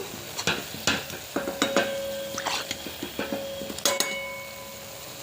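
Ripe banana fritters frying in oil in a home kitchen, a low sizzle under repeated sharp clinks and scrapes of a utensil against the pan as they are turned, with no voices.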